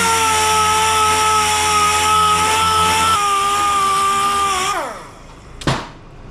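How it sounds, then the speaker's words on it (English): A DA sander grinds surface rust off a car body panel on a 1936 Ford Roadster custom, running loud and steady for several seconds before spinning down, followed by a short knock. "so I'm gonna wipe this down, DA it, because it's got a little bit of surface rust going on here"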